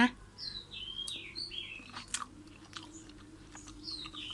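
Crunchy chewing of a Thai crispy pork herb salad with spices, several soft bites and chews up close, with faint chirping in the background.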